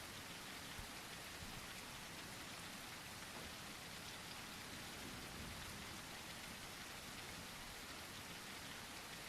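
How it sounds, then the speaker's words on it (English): Light rain falls in a video game as a soft, continuous patter and hiss, quiet but steady, with no voices over it. "It's light rain, too."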